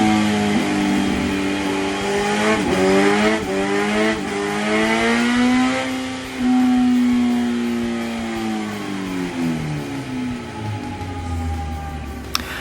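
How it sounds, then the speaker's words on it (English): A restricted Suzuki B-King motorcycle on a dyno is run at full throttle, its engine revving loud and rising steadily in pitch, then easing off near the end. "And you can see on this power run how the bike is restricted."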